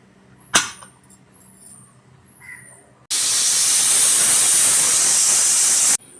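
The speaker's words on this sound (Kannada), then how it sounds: "ಈಗ ವಿಷಿಲ್ ಹೋಗಿದೆ." A 10-litre pressure cooker cooking menthya bath lets out one loud, sustained steam hiss from its whistle that lasts about three seconds and stops abruptly, after quieter kitchen clatter and a sharp knock.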